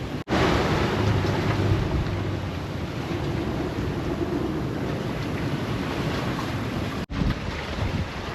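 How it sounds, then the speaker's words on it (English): Waves roll and crash around a sailboat on a rough ocean passage from Tahiti to Hawaii, a steady, loud wash of water mixed with heavy wind buffeting the microphone, continuous with one brief dropout. "I want you to check out the size of these waves"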